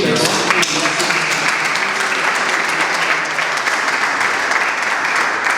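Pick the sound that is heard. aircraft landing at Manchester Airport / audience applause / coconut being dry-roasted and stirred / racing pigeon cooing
audience applause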